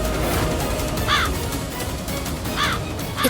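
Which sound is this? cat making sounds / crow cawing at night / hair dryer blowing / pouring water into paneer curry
crow cawing at night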